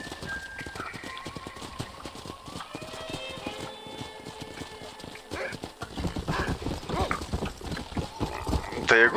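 Horses gallop in the Western video game Red Dead Redemption, with dense rapid hoofbeats, a neigh and game music, while characters talk over it.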